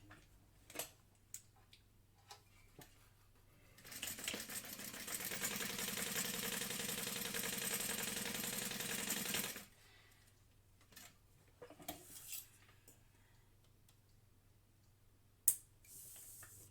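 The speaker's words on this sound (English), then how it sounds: "we're going to top stitch along that top edge at 1/8 of an inch" A sewing machine top stitches along the folded top edge of a handbag at a 1/8 inch seam, running steadily for about six seconds between quiet handling sounds and brief clicks.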